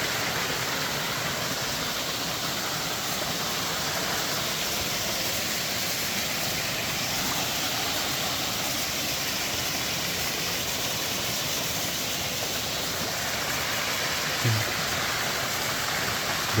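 Continuous rushing water roars steadily without pause, a dense broadband wash like a waterfall heard nearby.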